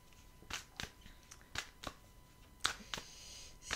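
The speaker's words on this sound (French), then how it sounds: "Allez, je vais prendre une dernière carte." Tarot cards are handled and drawn from a deck, with a handful of brief, crisp flicks and taps spaced irregularly against a quiet room.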